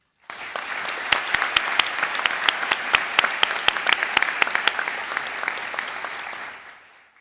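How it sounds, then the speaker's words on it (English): A commencement audience at a college ceremony breaks into applause for graduates, a sustained burst of many hands with sharp individual claps standing out, starting abruptly and fading out after about seven seconds. "Can we have a round of applause for our graduates?"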